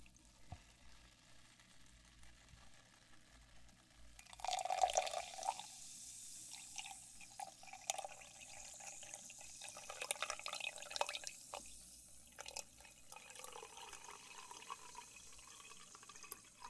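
Coke soda is poured into a glass for an ASMR recording, beginning as a brief splashing pour followed by a soft, continuous crackling fizz of bubbles that stays faint and close, with no talking.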